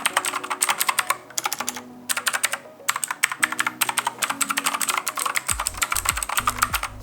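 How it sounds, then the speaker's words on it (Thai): Typing on a blue-switch mechanical keyboard fitted with white keycaps gives loud, sharp clicks in fast, irregular bursts, close up and alone. Several deeper thocks near the end suggest heavier keys. "เสียงของตัวแป้นพิมพ์นะฮะ"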